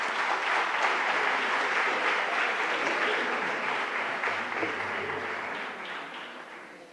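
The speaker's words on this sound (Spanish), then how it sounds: "un aplauso y un corazón abierto" A large audience at a pastoral conference applauds a priest about to speak, with dense, steady clapping throughout that fades slightly toward the end.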